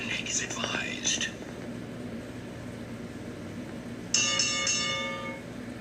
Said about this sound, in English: And the bell tells me that the clip is over